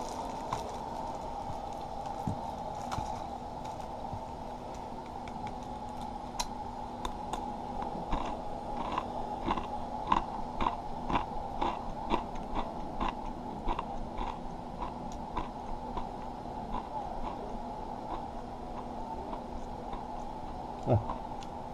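Someone bites and chews Misura veggie soy crackers close up, a series of sharp, dry crunches in a steady rhythm that grows denser toward the middle, over a quiet background hum without speech.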